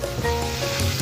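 Asparagus stir-frying in a pan with garlic sauce, a brief close burst of steady sizzling.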